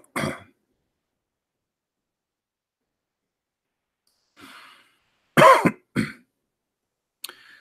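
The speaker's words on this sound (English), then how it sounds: "I apologize, I'm coughing." A single cough at the start, then after a long silence a faint breath followed by two sharp coughs and a brief throat sound.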